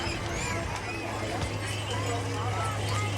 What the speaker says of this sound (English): Nice big Percheron, pulling the spring wagon